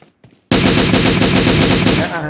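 Rapid burst of AUG assault rifle fire in PUBG Mobile, loud and close, a continuous stream of shots lasting under two seconds after a brief quiet moment.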